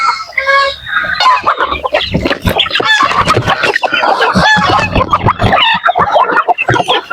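Texas and native chickens cluck and squawk loudly and continuously up close while being fed, a busy overlapping chorus of short calls.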